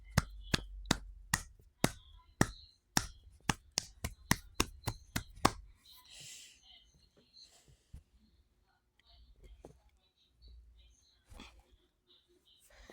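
A small group claps in sharp, uneven bursts for Dallas after a game win, about a dozen hand claps over six seconds, followed by quieter rustling and a few scattered claps.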